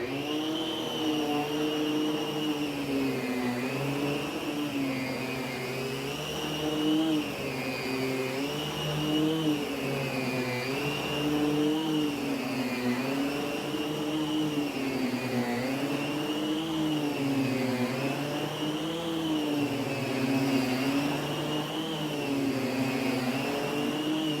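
An Electrolux central vacuum power head runs with a continuous, steady whirring drone whose pitch wavers gently up and down, moderately loud and close, with no voices over it.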